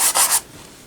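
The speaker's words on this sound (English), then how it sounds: "I'm just rubbing it in." A brush rubbing white paint into a painting gives three quick, close, scratchy strokes within half a second before falling quiet.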